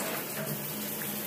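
An IN2ITION shower head runs water in a steady, dense hiss of spray, close and continuous throughout, with no voices.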